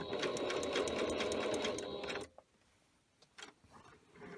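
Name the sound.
sewing machine back stitching a bag seam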